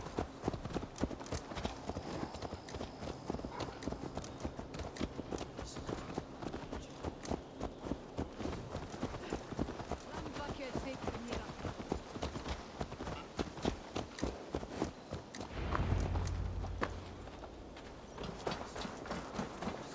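Horse hooves clip-clop steadily in Assassin's Creed Valhalla, a continuous rhythmic stream of close hoofbeats on hard ground for the whole stretch, with a brief low rumble partway through.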